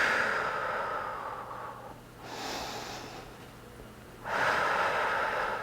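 Deep breaths drawn during an extended side angle yoga pose, slow inhales and exhales rising and falling in soft airy swells, close and fairly quiet with no other sound around them.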